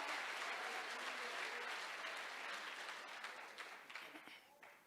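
Church congregation applauding together, a dense wash of clapping that holds steady, then thins and grows patchy toward the end.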